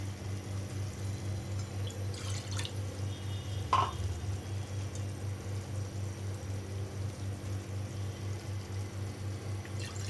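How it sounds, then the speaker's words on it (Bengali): Hot water poured into a pot of chicken khichuri during home cooking, a soft brief splash and trickle near 3.7 seconds over a steady low stove hum, no talking. "একটু পানি দিয়ে ধুয়ে দেই।"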